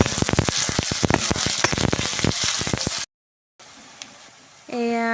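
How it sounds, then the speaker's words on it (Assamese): Onions frying in a pan for a goat meat dish, a dense crackling sizzle with rapid popping for about three seconds, then a cut to quiet and a voice speaking. "এতিয়া পিঁয়াজখিনি ৰঙা কৰি ভাজি লওঁ।"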